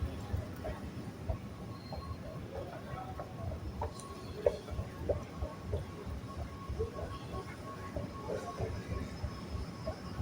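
A metro train rumbles along at a steady low roar, with faint clicks and rattles from the cars and wheels throughout, quiet and continuous from inside the carriage.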